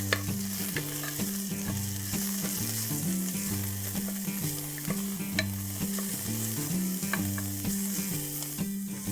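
Onion, garlic, ginger and cumin fry in a pan for vegetable pulao, with a steady sizzle running under a repeating low rhythmic hum and scattered stirring clicks throughout.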